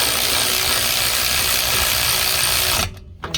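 An impact or ratchet tool runs steadily on the 15 mm bolts of a Ford Edge AWD axle hub, a continuous buzzing mechanical whir that cuts off abruptly near the end, followed by a brief rattle.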